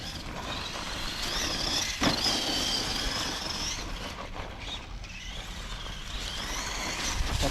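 Tamiya or Arrma RC car running on a track, a steady high electric motor whine rising and falling as it brakes, turns tightly and speeds down a straight, with broadband tire and gravel noise throughout and no talking.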